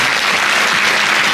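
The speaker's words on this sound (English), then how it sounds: "Give them a big round of applause." An audience applauds the speakers at the close of a talk, a brief, loud and dense burst of many hands clapping at once, close and uninterrupted.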